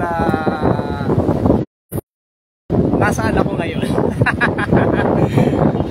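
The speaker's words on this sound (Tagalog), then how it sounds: "Malakas pa yung hangin" Strong outdoor wind buffets the microphone with loud low rumbling gusts while someone talks over it, cut by a brief dropout of silence.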